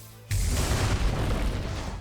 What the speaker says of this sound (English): A massive explosion, and that is lethal.